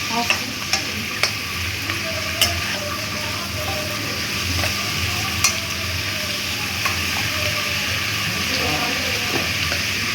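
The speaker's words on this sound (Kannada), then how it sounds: "ಮಶ್ರೂಮ್ ಸ್ವಲ್ಪ ಫ್ರೈ ಆಗಿದೆ" Mushrooms frying in a kadai give a steady, close sizzle, with occasional light stirring clicks and taps over the continuous hiss.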